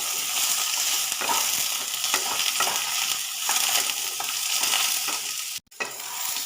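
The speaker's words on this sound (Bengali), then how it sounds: "বেগুনগুলোকেও কুমড়োর সাথে এবারে নেড়ে নেব" Brinjal and pumpkin stir-fried together in a pan, a loud continuous sizzle with repeated scraping stirs, briefly dropping out near the end before the frying hiss resumes.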